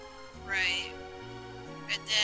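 A cat meows twice, a drawn-out cry followed by a shorter one, over a low steady hum with faint voices nearby, during a Final Fantasy IV game.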